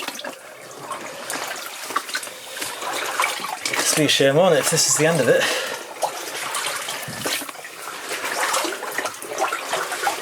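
Water flows steadily through an underground passage, a broad rushing wash that swells louder near the middle, while someone talks over it.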